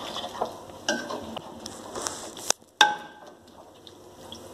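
Crushed fried onions being stirred into chicken shahi qorma, a light sizzle under a few distinct metallic clinks and scrapes of a spoon against the pot, with a brief silent gap midway.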